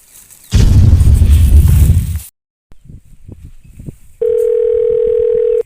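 A telephone call tone sounds as a steady loud electronic hum that begins near the end and holds unbroken, following a burst of loud noise and a stretch of soft clicking.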